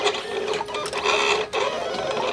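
A cutting machine runs a cut with a fast, futuristic whirring and chirping, rising and falling in short bursts with a brief dip midway, close and fairly loud, with no voices.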